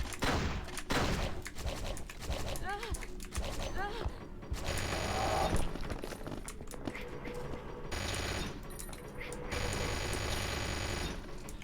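Enemy gunfire in the video game Hedon Bloodrite, dense rattling shots and clanking mechanisms over busy game noise, with chirping effects and intermittent loud stretches.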